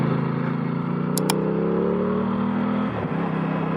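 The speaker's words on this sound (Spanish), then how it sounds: "podemos disfrutar tanto del quick shift de subida y bajada" A 2022 Aprilia Tuono 660 motorcycle riding on a winding road, its engine droning steadily and climbing in pitch, then dipping briefly during a quick-shifter gear change, loud and close, with wind rush throughout.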